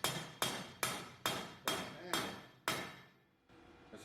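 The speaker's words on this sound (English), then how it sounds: "I suppose now I should not talk while I'm hammering" Seven sharp hammer blows on a round metal bar ring out at a steady, even pace, each strike loud and metallic with a short decaying ring, ending in quiet.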